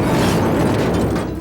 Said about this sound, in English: An explosion got people to look up.